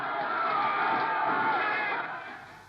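Crowd noise swells into broad applause mixed with cheering, steady and fairly loud for a couple of seconds before fading slightly at the end.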